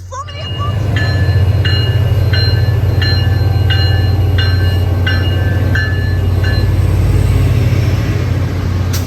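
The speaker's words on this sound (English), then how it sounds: "getting off the train at West Gloucester" A train rumbles loudly and steadily at West Gloucester station, on the inbound platform toward Boston, a low continuous drone with a repeated high electronic chime sounding at regular intervals.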